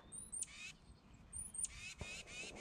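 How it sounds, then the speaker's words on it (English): A small bird calls near a fishing pond, giving two quiet, shrill, slightly rising calls about a second apart, faint and distant with no talk. "That little bird making a lot of noise."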